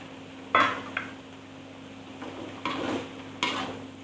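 Two squid, about 500 grams, fry in a pan with gendot chili while being stirred, giving a low steady sizzle under several distinct scraping and clattering strokes of a spatula against the pan.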